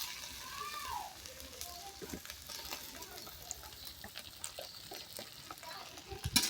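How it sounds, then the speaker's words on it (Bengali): Ginger garlic paste sizzles softly in hot oil while a spoon stirs it with scattered scrapes and taps, fairly quiet and close. "একটু একটু ভাজা ভাজা হোক"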